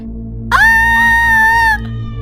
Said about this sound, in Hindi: अगली सुबह जब उसकी आंख खुली तो उसने देखा कि उसके पेट पर किसी की खरोच के निशान है। ये देखकर वो जोर से चिल्लाई।